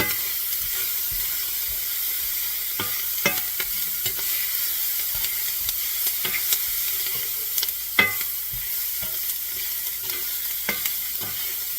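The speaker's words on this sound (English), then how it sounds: "now it's starting to brown. So I'll need to stir it up some more." Cajun sausage browning in a cast iron skillet, with a steady hissing sizzle and occasional scraping stirs and taps of the utensil against the pan, close by and without talk.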